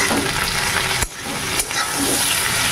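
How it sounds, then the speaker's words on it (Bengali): Prawns fry with already-fried onions in a pan, giving a loud, dense, continuous sizzle that breaks briefly twice as the food is stirred or moved. No one talks. "পেঁয়াজটা ভাজা হয়ে গেছে, এই দেখো এবারে মাছটা দিয়ে দিচ্ছি, চিংড়ি মাছটা।"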